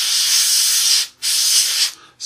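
An airbrush or spray can hisses paint onto a 1/32 scale Trumpeter AV-8B Harrier model kit in two long, steady bursts separated by a short pause, close and loud with no talk.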